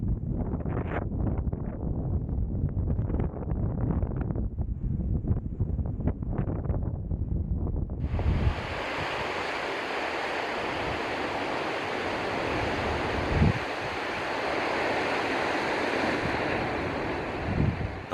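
Strong wind and ocean waves on the Suzaki coastal trail in Shimoda, Izu: rumbling gusts batter the microphone, then give way to a broad, sustained roar of surf and wind.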